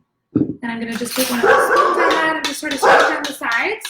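A household dog barks once, close and sharp, at the very start; a person then talks steadily over a kitchen mixing session.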